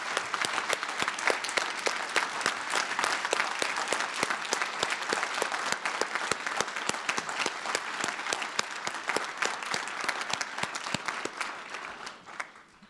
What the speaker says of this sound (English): I'd like you to join me in giving a round of applause to both Mark and Pietra